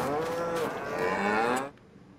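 Cattle in Farming Simulator 22 let out a long, loud, drawn-out moo that fades abruptly into near silence, with no talking.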